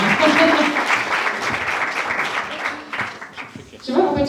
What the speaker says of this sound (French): Si vous applaudissez.